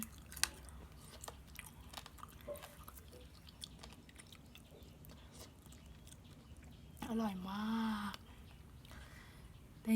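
Close, quiet chewing on grilled Pepsi-glazed chicken wings, soft wet bites and gnawing at the tendons, with a brief murmured voice partway through.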